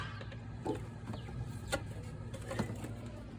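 Chickens, turkeys and Cornish birds clucking softly in a barnyard by a ramp, a few brief calls rising over a steady low hum, with no talking.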